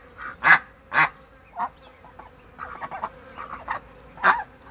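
Ducks in a garden at sunset, a series of honking quacks, some loud and close and others fainter, spaced irregularly over quiet outdoor background.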